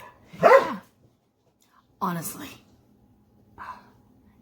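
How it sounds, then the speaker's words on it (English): Dogs wrestling and barking in the background of an indoor room, with a few short barks and yips coming between a woman's spoken phrases. "sorry if you can hear the dogs in the background"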